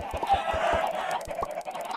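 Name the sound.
chickens clucking in Minecraft video game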